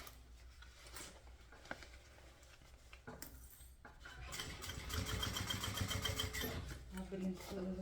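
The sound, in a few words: sewing machine stitching a straight seam on a bag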